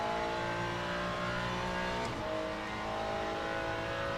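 A GT race car engine in the sim racing game Le Mans Ultimate drones loudly and steadily at high revs, dips briefly as a gear changes, then climbs again, with no talk.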